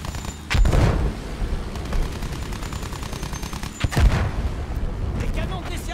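Two loud bursts of gunfire and explosions from Battlefield 1 stand out over a constant rumble of battle noise.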